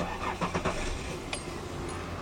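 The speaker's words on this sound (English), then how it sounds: "Let's just make sure the car starts up." Car engine cranks and catches after an ignition coil replacement, a few uneven bursts settling into a steady idle close by.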